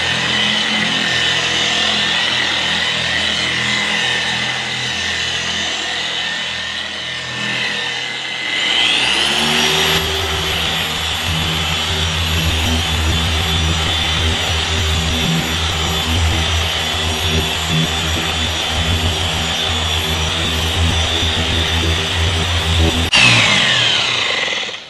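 A car paint polishing machine on a Subaru BRZ's damaged paint spins up to speed setting 6. A rough motor rumble rises into a loud, steady high-pitched whine that holds for about fourteen seconds, then drops back.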